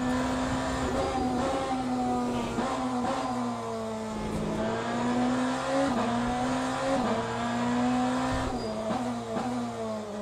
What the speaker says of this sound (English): big lock up there. I just stamped on the brake.